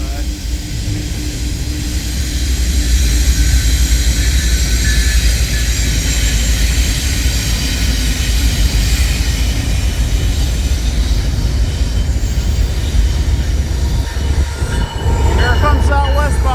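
A westbound freight train led by two locomotives rolls past loud and close, with a steady heavy rumble and wheel-on-rail noise, a faint high squeal, and a brief thump near the end.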